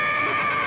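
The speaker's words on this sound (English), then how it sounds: "Well, I thought I heard a horse." A horse neighs in one continuous, loud, close whinny with a strong tonal character, heard on its own with no talk.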